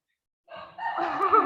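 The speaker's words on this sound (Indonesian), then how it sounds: "Ayam siapa itu, Kak Inai?" A neighbour's rooster crows nearby, starting abruptly after a short silence and building into a loud, drawn-out call with rising and falling tones, heard alone without talk.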